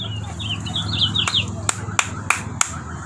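A sound-activated toy bird sold at a roadside stall in Madurai chirps in quick high tweets, answered by several sharp hand claps, with voices and street noise underneath.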